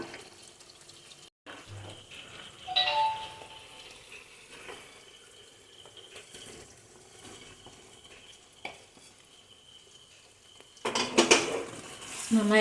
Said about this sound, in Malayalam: നന്നായി ഇളക്കി കൊടുക്കാം. മീൻ പൊടിഞ്ഞു പോകരുത്.